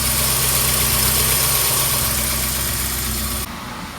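Mazda Roadster engine fitted with a Racing Beat header idles steadily and loudly up close with a low, even hum, then drops abruptly in level near the end.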